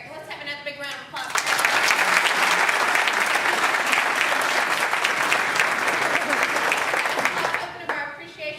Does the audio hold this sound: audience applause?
yes